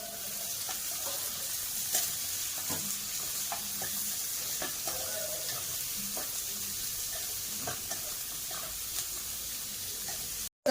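Chopped onions fry in a pan with a steady, loud, close sizzle that runs unbroken throughout, while scattered clicks and scrapes of stirring sound over it. No one speaks.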